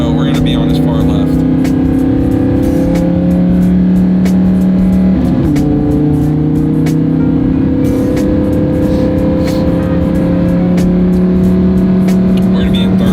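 Car engine in a loud, steady drone with a clear gear change midway, pitch dropping then climbing again as it accelerates; heard from inside the car with wind and road noise.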